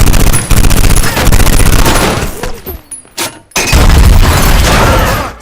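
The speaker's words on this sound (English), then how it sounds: "Before they can make a move, gunshots ring out." Gunfire erupts in a film ambush scene, a loud sustained fusillade of rapid shots with booming impacts and shattering debris, a brief lull, then another heavy burst close up.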